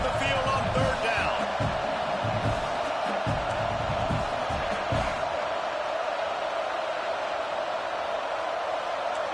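A home football crowd roars steadily in a stadium as the defense faces third down, a dense, continuous wall of cheering and noise throughout, with a commentator speaking over it.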